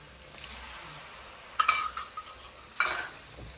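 Curd stirred into a simmering cashew masala gravy: a soft background sizzle, then a cluster of wet scraping and clinking spoon strokes against the pot and another burst shortly after, no talking.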